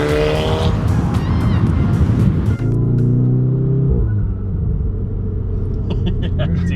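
A turbocharged stage 3 VW Golf R making 500 hp runs loud and close with a steady engine rumble and a brief dip, then settles into a lower, continuous drone.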